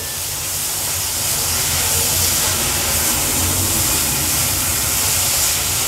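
Large tomatoes are added to onions already sizzling in hot oil and stirred in. A loud, steady hiss of frying carries on throughout with no talking.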